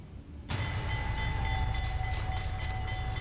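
A train in a rail yard at the US border, inspected by Border Patrol agents, starts up abruptly after a quiet moment: a loud, steady rumble with ringing metallic squeals that holds to the end.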